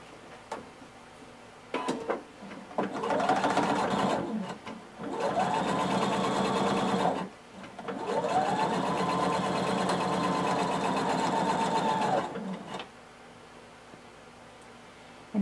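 A sewing machine runs close up along a blazer seam in three bursts, a short one followed by two long steady runs of rapid whirring, with brief pauses between.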